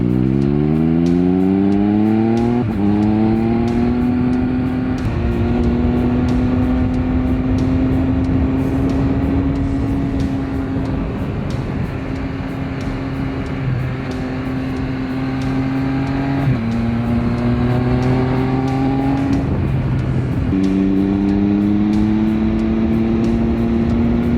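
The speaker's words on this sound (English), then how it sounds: "The 1200cc triple engine comes alive" A Triumph Speed Triple 1200 RR's 1200cc three-cylinder engine revs hard on a twisty road, loud and close, rising in pitch through several gear changes with brief dips between shifts.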